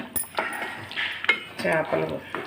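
Metal spoon clinking and scraping inside a pot while fish and raw banana curry is stirred with fresh coriander, a few close, irregular clatters in a quiet kitchen.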